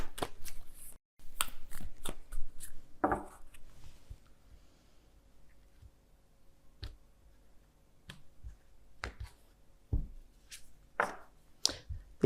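Work Your Light oracle cards are shuffled by hand in a series of sharp, brief riffles and card slaps, clustered at first and then scattered with quiet gaps between them, close and crisp.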